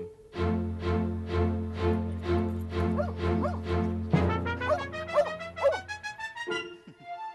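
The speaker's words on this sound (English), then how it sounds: "Is this a moose hunting dog?" A Norwegian moose hunting dog barks repeatedly and close by in a steady series of loud barks, then shifts into higher, yelping and whining barks toward the end.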